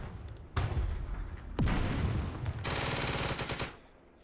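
Video game gunfire from Second Front: bursts of machine-gun fire and heavy booming shots come in quick succession, dense and loud, with no one speaking.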